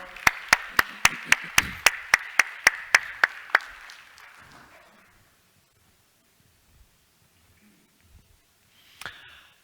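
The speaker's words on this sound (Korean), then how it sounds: "박수로 모시겠습니다" Applause at a Korean church service: a short burst of sharp, evenly spaced claps, fairly close, that fades after a few seconds into near silence, then a faint rustle at the end.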